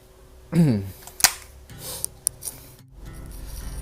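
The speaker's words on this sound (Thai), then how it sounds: "นี่ปืนที่ผมใช้นะครับเดี๋ยวเคลียร์ปืนนะครับ ไม่มีกระสุนนะครับ" Close mechanical clicks, slides and metallic snaps as a handgun is cleared of ammunition and its slide is worked, a few sharp transients over faint room noise.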